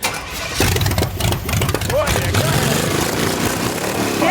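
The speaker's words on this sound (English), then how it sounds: "Oh, it'll start." A V8 engine cranks and fires up in a junkyard-built climbing car, turning over with a rough, busy rumble that settles into a loud, steady run close by, with people talking over it.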